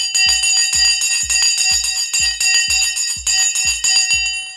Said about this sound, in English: The bell has now gone and we are off and running.